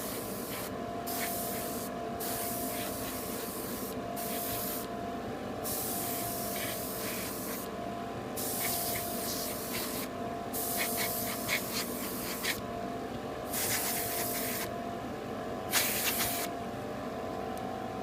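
An airbrush or spray can lays a gloss coat onto a large RX-78-2 Gundam model kit in a steady series of hissing bursts, each a second or two long with short pauses, close and even throughout.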